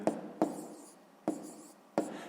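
A pen writes by hand while a sixth-grade math exercise is worked out, making four distinct scratchy strokes at uneven intervals, faint and close, with no talk.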